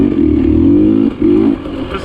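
A hard enduro dirt bike's engine drones loud and close on a wet, slippery dirt track, cutting off briefly midway and then picking back up.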